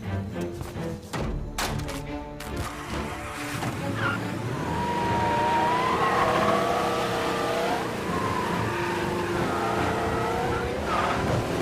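A car in Mafia: Definitive Edition drives hard, its engine revving loudly and steadily with rising, sweeping tones that suggest tires skidding. Some sharp impacts come early, then the engine roar continues without a break.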